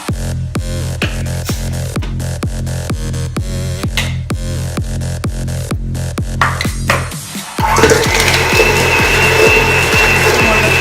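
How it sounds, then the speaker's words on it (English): An electric mixer creaming butter and sugar for cupcakes: a loud, steady motorized whir with a regular thumping beat, shifting into a higher, smoother hum near the end. "cream together your butter and sugar until light and fluffy"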